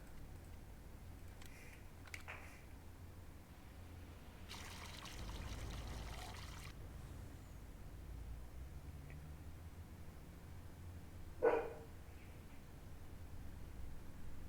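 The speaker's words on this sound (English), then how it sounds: "Let's throw some water in here." Water poured into a container on a worksite where diesel was just emptied, a broad splashing burst lasting about two seconds in the middle of a quiet, noisy background, followed later by one short sharp knock.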